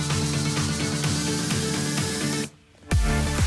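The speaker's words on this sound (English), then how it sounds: "it just adds that swoosh before everything kicks in" A piano chord with automated volume forms a swoosh before a music drop: a dense sustained mix whose level suddenly dips out and then slams back in with a low thump as the track kicks in.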